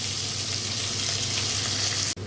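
Onions going into hot oil for a homemade rohu fish posto curry, a dense continuous sizzle close to the microphone, ending in a brief dip before the frying resumes.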